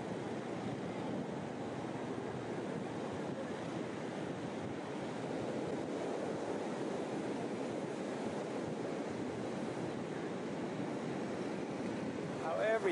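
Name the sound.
heavy surf waves during a storm in Cha Am, Thailand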